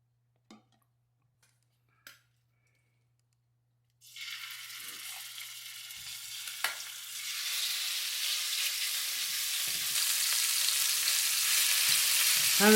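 Steak and potatoes hit hot oil in a pan for a stir fry and set off a sizzle that swells steadily louder. Quiet clicks and utensil taps come before it, and scattered pan knocks follow.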